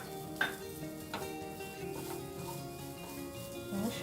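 Fish sizzles in spiced oil in a pan over a low gas flame, a soft continuous crackle with a few louder spatters and stirring scrapes, close and fairly quiet, with no voices.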